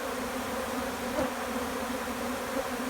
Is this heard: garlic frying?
no